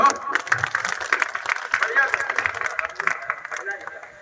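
Audience applause at a Hindi kavi sammelan poetry gathering at the Mahavir Jhanda fair in Sandila, with dense, loud clapping and crowd noise running steadily throughout.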